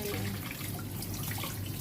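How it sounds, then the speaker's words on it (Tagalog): Tap water runs steadily from a kitchen faucet as salad vegetables are rinsed beneath it, a continuous near splashing hiss with no talk. "Tapos yung paghugas nito, iganyan ko lang yung shower."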